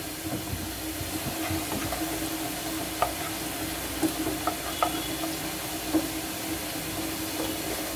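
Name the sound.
onions frying in a pan until brown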